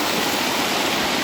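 Water crashes steadily at the Brahman Dev waterfall, a dense, loud, close rushing roar with no break.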